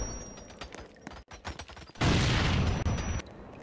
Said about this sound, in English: I'll defuse the bomb by kicking it.